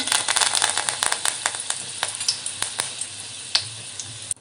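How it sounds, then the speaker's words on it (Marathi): Curry leaves hit hot oil for a Konkan-style dry fish curry and give off a dense, crackling sizzle with sharp pops. The sizzle is loud at first, then slowly thins out, with no voices over it. "आता तेलावर मी कढीपत्त्याची पानं ॲड करणार आहे."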